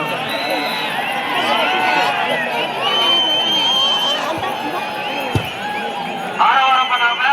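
A large crowd clamours at the Karkuvel Ayyanar temple Kallar Vettu festival in Therikudiyiruppu, with a continuous roar of voices, shouts and cheering, and a loud swell near the end.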